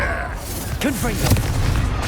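A Confringo fire-blast spell erupts in Hogwarts Legacy during a fight with Ashwinders, a short booming burst with crackle, over game music and a voice.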